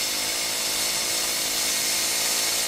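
A rotary tool with a long-shaft burr ports small-block Ford GT-40 cylinder heads for an Early Bronco, giving a steady, high-pitched grinding whine that runs unbroken and close throughout.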